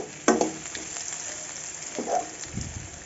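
Eggplant for achari begun fries in a wok, giving a steady crackling sizzle with a few louder bursts of spattering as it is stirred, close and without talk.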